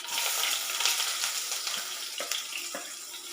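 Chopped onion hits hot oil with curry leaves in a pan while making old-style school upma, giving a steady, close sizzle with brief crackles and pops throughout and no voices.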